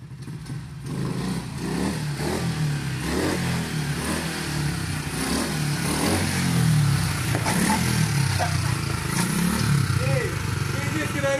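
A stunt motorcycle doing a wheelie revs steadily nearby, its engine rising and falling in repeated throttle bursts, with voices faintly mixed in.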